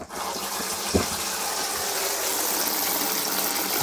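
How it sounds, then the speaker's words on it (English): Water gushes from the hot tap of a 1995 Abbey 416 Vogue GTS four-berth touring caravan into the shower tray, a steady close hiss after a brief start, with no talking. "I'll turn these taps on so you know that they are working as well."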